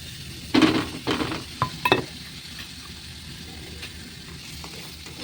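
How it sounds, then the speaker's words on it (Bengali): Prawns with tomato, chilli powder, turmeric and spices fry in hot oil, with a steady sizzle broken by a few loud spatula scrapes and stirring clatters near the start, then settling to quieter frying. "এই তেলে একটু ভাজা ভাজা করতে দেবো"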